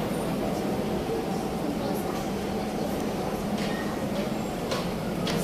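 A train rides through Singapore with a steady, dense rumble and rolling noise throughout, heard from inside the carriage with no break.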